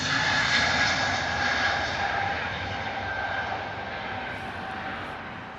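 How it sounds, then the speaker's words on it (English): An Airbus A320neo jet departing Heathrow in the morning, a loud steady engine roar with whining tones that slowly fades as the aircraft moves away. "320 Neo heading out to Malta this morning"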